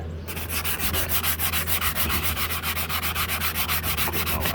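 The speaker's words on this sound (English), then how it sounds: "sanding block, you can get in here and clean this up real good" Sanding block rubbed hard back and forth over a rusty hinge area on a Dodge Ram passenger door, a close, loud, steady rasping scrape with quick regular strokes running the whole time and no voices.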